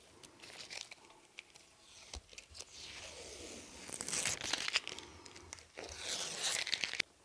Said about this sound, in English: let's get this tape off and see how bad the bleed through is